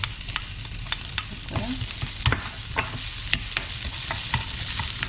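Ginger and garlic frying in a spoonful of cooking oil for a celery stir-fry, a bright crackling sizzle with frequent spatula taps and scrapes, close and fairly loud.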